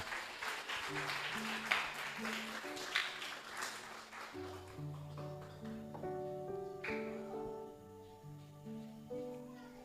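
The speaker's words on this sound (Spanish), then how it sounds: "Dale un aplauso a Jesús" Congregation applause at a church service, a dense patter of clapping that fills the room while sustained organ or keyboard chords ring through and carry on as the clapping thins.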